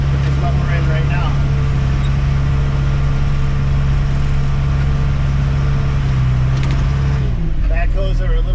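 A backhoe tractor driving in 4th gear while transporting on a snowy, icy work site, its engine droning loud and steady from up close, with a shift in pitch near the end.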